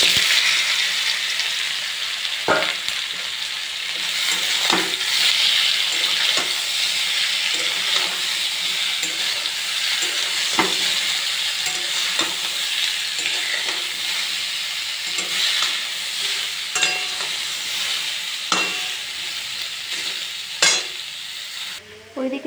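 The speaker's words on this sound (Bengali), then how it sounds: "ওইদিকে সজনে ডাঁটাগুলো ভাজা হতে হতে" Drumstick stalks fry in oil in a wok with a loud, continuous hissing sizzle that stays close and even for over twenty seconds, broken by sharp scrapes and clicks of a spatula stirring.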